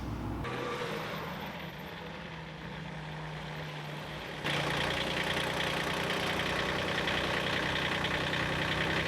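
A tractor engine idles steadily at close range, a low continuous rumble that grows noticeably louder and fuller about halfway through and then holds at that level, with no talking.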